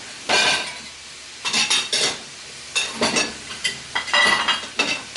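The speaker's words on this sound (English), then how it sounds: "Alright, so we're going to stick this in the dishwasher." Dishes and utensils being loaded into a home dishwasher after baking cookies, with bursts of clinking, clattering and rattling at close range separated by short pauses, and no talking.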